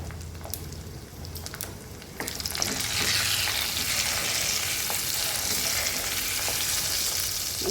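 Four or five lightly crushed garlic cloves hit hot oil in a pan, and a quiet background gives way to a loud, steady hissing sizzle that keeps crackling throughout.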